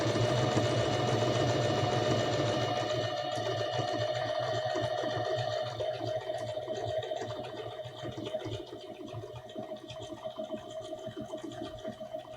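Bernette Academy 05 sewing machine running a decorative stitch, a steady close mechanical whir with fast rhythmic needle clatter that continues throughout.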